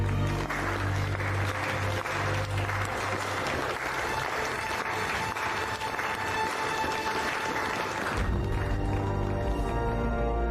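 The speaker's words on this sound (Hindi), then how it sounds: "अपनी रानी के लिए तालियां बजाइए।" A crowd applauds for a queen, a loud continuous wash of clapping mixed with a low steady hum and tonal background music throughout.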